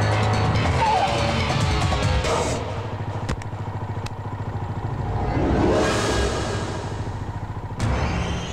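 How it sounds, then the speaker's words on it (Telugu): A jammed road with motorcycles and cars idling and revving close by, engine drone broken by occasional thuds and clatters and a couple of louder surges. "ఏంటి ట్రాఫిక్ జామ్"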